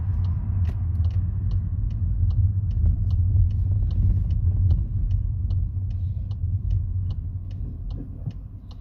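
Steady low road rumble of a car driving behind a learner car on the way back to the Thornbury test centre from Leeds, with faint regular ticking like an indicator throughout and no talk.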